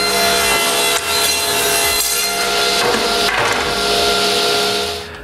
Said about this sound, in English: I rip some strips of plywood to the width of the spacings.